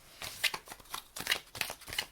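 Tarot cards shuffled close up in a quick run of riffling flutters and soft slaps, several bursts in about two seconds, with no talk.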